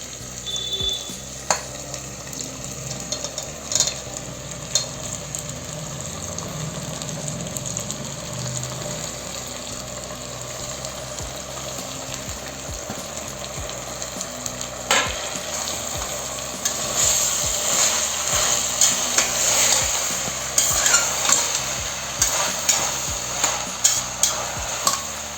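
Mushrooms, peas, chopped vegetables and green chillies fry and get stirred in a pan for mushroom pulao, a steady close sizzle broken by scraping stir strokes, growing louder and busier in the final seconds.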